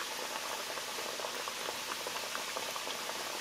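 Ground beef empanadas fry in hot oil in a pan, giving off a steady, fairly quiet bubbling hiss with faint popping throughout and no voices.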